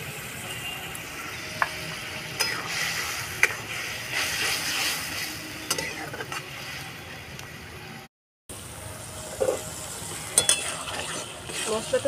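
Spice paste with turmeric and salt fries in a pan while being stirred, giving a steady close sizzle with scraping stir strokes throughout and a brief dropout partway.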